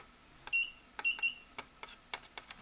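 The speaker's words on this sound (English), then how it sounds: "Put your ohm meter on the buzzing so you can hear it" An ohm meter set to continuity gives short electronic beeps as probes touch rail sections of a handmade model railway turnout, several brief irregular chirps among clicks and handling noise.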